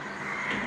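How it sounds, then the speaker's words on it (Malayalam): Birds calling outdoors, a few short crow-like caws over a steady background hiss, moderately distant and not very loud. "പക്ഷികളുടെ ശബ്ദം ഇങ്ങനെ കേൾക്കുന്നുണ്ട്"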